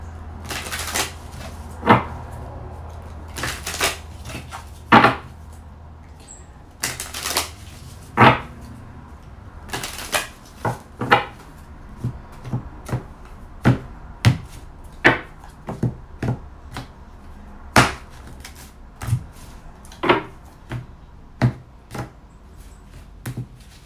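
Tarot cards from a whimsical deck are handled and laid out on a table in a long sequence of sharp taps, slaps and brief riffles at uneven intervals, close and clear with no talking.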